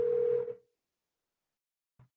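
A telephone ringing tone sounds during an outgoing call, a steady electronic tone lasting about half a second before cutting off, followed by silence and a faint brief blip.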